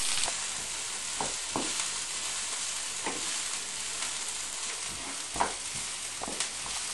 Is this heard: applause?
no